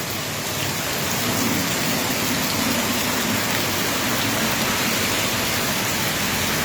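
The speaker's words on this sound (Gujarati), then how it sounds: "અધીર જ ચાલુ છે વરસાદ" Heavy rain pours down in a steady, dense roar that stays loud and even throughout, with no voices.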